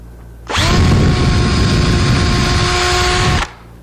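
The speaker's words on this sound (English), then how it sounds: "I'm just going to drill it a little bit." A power drill whirs loudly for about three seconds at a steady pitch as it bores into pine wood, starting and stopping abruptly.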